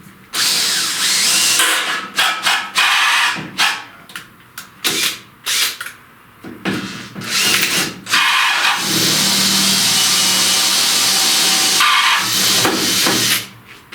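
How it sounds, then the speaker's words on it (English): A power drill bores Cleco holes in the firewall of a 1930–31 Model A Ford, whirring in several short close bursts before settling into a long sustained run. "I'm going to drill one on the top, one on the bottom on each side."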